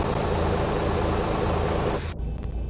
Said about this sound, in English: Engine number 1 is starting,